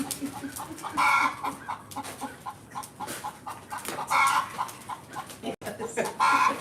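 A hen clucks repeatedly in loud, rhythmic bursts, a typical cackle after laying, fairly close with no talking.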